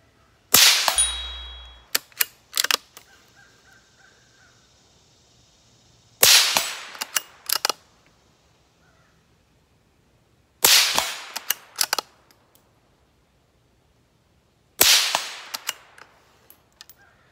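A .22 Magnum fired through a Vector silencer gives four suppressed shots, each a sharp crack trailed by quick clanking and ringing, spaced a few seconds apart and heard alone at close range.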